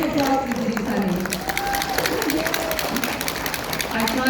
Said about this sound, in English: give applause to Ibu Sani